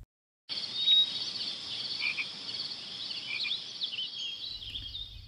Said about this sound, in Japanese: スズムシは夜になるとリンリン鳴く。